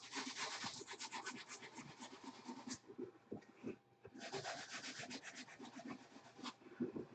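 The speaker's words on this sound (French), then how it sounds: "On ponce tout ça." Rhythmic sanding strokes on a medieval-style modular model house made of wood and cardboard, a steady run of rasping rubs, a short pause, then another run, close and fairly loud.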